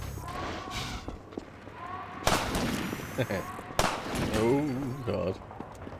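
Sniper shots and suppressing gunfire ring out in Half-Life 2's city streets, sharp loud cracks landing at scattered moments over steady background game noise, with a voice exclaiming briefly.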